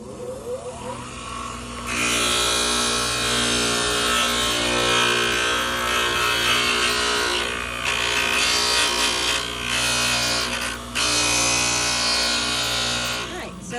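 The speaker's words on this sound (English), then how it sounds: "you're going to watch as I grind this down until I get to my little Sharpie line" A glass grinder grinds a piece of glass down toward a marked line, a loud steady whirring grind with a scraping, gritty edge that runs nearly the whole time after a brief quieter start.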